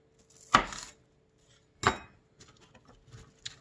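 Knife chopping through a Vidalia sweet onion on a cutting board, two sharp distinct chops followed by lighter taps and faint handling noise, close and quiet.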